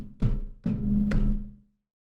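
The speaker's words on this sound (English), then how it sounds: "if someone wants to hit the desk," Hits on a desk beneath a Shure MV7 microphone picked up as low dull thumps, three quick knocks in about two seconds with a short resonant tail, close and alone.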